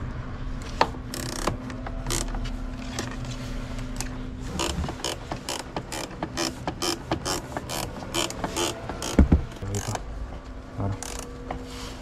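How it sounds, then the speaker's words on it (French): Screws on the air filter housing of a Renault Kangoo 2 1.5 dCi are undone, producing a long run of quick, close ratcheting clicks in irregular bursts with some rubbing and handling noise. "on dévisse des deux côtés"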